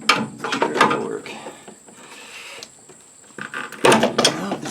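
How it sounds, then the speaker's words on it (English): A 19mm socket on a ratchet works a strut bolt on a 1997 Suzuki Sidekick, giving close, loud bursts of clicking pawl and metal rattle with a quieter pause in the middle. "This is a 19mm socket."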